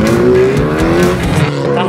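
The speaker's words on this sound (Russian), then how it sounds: "Готовимся к старту байки сейчас нашего маленького собрата." A rally buggy revs loudly at a race start, its engine close and roaring with a rising, straining tone and some tire squeal mixed in.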